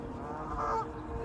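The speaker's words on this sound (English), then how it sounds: "We're right next to the lake, and there's all these Canada geese." Canada geese on a lake give a single brief honking call at a distance, heard over a low, steady background rumble.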